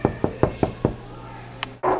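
Five evenly spaced knocks on a door in a staged Romeo and Juliet scene, crisp and close, followed by a short high tone and then a voice breaking in at the end.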